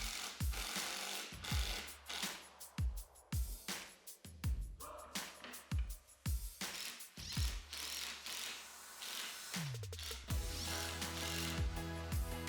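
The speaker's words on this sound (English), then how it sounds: "use screws to attach the base together in the corners" Screws are driven into the corners of a wooden TV stand base, with a power driver's whirring bursts and ratcheting clicks repeating in a steady rhythm, close and fairly loud, with no talking.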